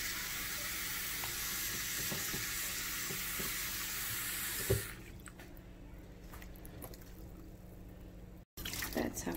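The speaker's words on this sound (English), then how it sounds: "I'm gonna rinse it right now." Rice is rinsed in water by one hand in a home kitchen: a steady, loud rush of running water for about five seconds. Quieter wet swishing and small splashes follow.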